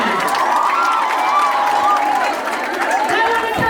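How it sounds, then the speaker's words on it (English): An audience at a live show cheers and applauds continuously, a dense crowd roar with scattered shouts and whoops sustained throughout at close range. "Give a round of applause for our favorite guys."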